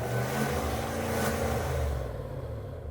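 A Cadillac Escalade's 6.2 litre V8 rumbles under a rev before the note fades away toward the end, a deep steady engine sound heard from nearby.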